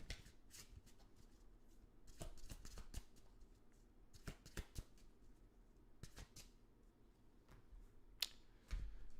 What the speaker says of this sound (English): Let me do one more shuffle here.